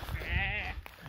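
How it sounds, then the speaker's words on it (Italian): A sheep bleats once in a wooded setting, a close, wavering cry lasting about half a second over a low background rumble. "e poi c'è una pecora"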